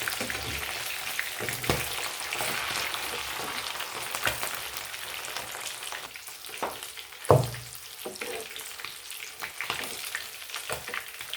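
Small fish frying in hot oil give off a continuous close sizzle and bubbling, broken by a few stirring scrapes and a single sharp knock partway through.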